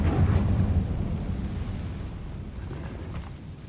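A fiery blasting-spell explosion in a wizarding video game: a deep, rumbling boom that hits at once and rolls away over a few seconds, loud and close, with no voices.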